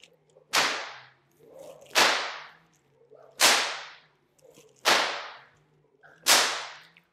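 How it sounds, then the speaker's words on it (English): Five sharp whip cracks in a slow helicopter spinning technique, evenly spaced about every one and a half seconds, each loud and close with a brief swish before it. "Spinning, another. Spin, spin, crack, spin, crack, spin."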